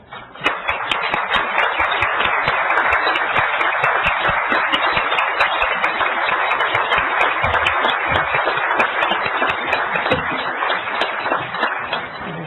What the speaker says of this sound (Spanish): yo pediría que se pararan y les diéramos un aplauso.